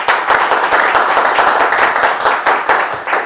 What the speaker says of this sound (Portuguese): Esse é o Daniel, uma salva de palmas para ele